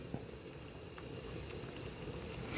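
Ginger curry (inji curry) bubbling at a low simmer in a pot, a soft steady burble that stays faint and even throughout with no talk over it.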